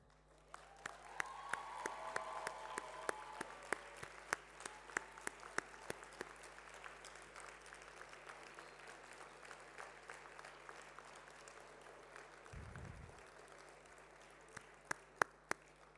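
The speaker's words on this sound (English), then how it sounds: "Families of graduates, would you all please stand up and let us applaud you." Quiet, scattered applause rises from the audience at a university commencement ceremony, soft and distant with sharper individual claps popping out over a low room hum.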